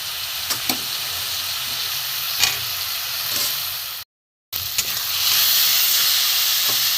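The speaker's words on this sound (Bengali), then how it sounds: "সব আলুগুলো দিয়ে দিলাম, এর সাথে একটু ভালো করে কষিয়ে নেবো বন্ধুরা" Fried potatoes being stir-fried in a hot pan, a continuous loud sizzle and steamy hiss with occasional stirring clicks, a short gap, then the frying resumes louder.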